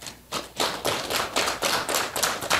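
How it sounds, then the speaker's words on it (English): Audience applause at a public talk event, a short burst of uneven, fairly close clapping from a small group, rising quickly and holding steady without speech. "he must get a big round of applause for that"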